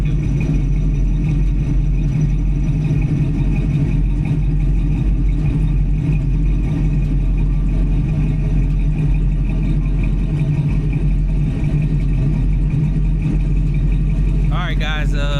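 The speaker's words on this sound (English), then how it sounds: "This one got flow master. This one definitely gotta have an exhaust on it too right here." Idling V8 of a 1983 Oldsmobile Cutlass Hurst fitted with a Flowmaster exhaust, a steady deep rumble that runs unbroken throughout, loud and close, with a brief higher rev or squeal near the end.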